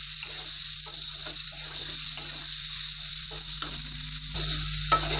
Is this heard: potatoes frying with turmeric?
yes